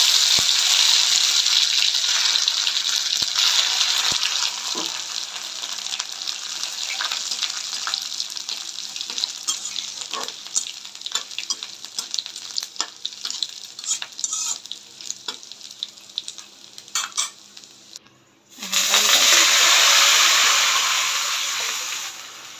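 Cumin and ginger fry and sizzle in hot oil while being stirred steadily in a pan, with scraping stir strokes throughout, a brief quiet dip near the end, then a loud renewed sizzle as more goes in.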